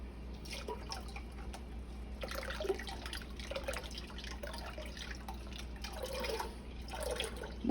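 Water trickles and drips steadily into a metal can, a continuous light splashing with a low hum underneath and no voices.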